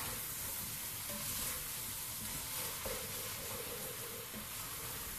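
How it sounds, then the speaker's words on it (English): Spices being stirred in hot oil in a pan while cooking keema matar, a constant soft sizzle and hiss with faint scraping and shuffling, fairly close, with no talk. "so just adding in a bit of oil, that's it, and whisking it around"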